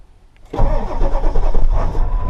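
A 7.3 diesel truck engine cranks and fires on its first start after new glow plugs, catching after half a second into a close, loud, rough rumbling idle.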